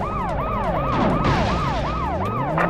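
Ambulance siren in the World's Scariest Police Chases video game, a loud repeating wail sweeping up and down about twice a second, close and continuous over engine rumble.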